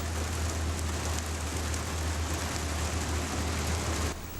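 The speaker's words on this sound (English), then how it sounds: "It started raining." Steady, dense rain pouring down, a continuous hiss with a low rumble underneath, constant throughout and cutting off slightly near the end.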